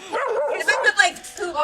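Puppies at a dog rescue bark and yip in short, high bursts, mixed with people talking nearby.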